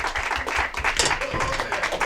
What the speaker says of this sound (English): Give a round of applause for Johnny Cuevas.